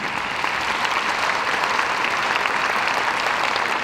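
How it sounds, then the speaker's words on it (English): A school music festival audience gives a steady, loud round of applause, an even wash of many hands clapping from start to finish with no talk over it. "so let's give a round of applause for them"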